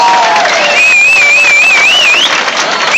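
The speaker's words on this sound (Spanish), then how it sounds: "Muchas gracias, un aplauso" Crowd at a concert applauding and cheering, a dense wash of clapping with a whistle rising and wavering through it, loud and close.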